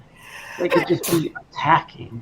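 A single sharp sneeze bursts out during a tabletop game session, landing among people talking.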